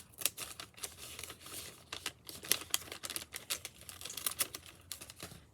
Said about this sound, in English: I'm just going to cut along one long edge.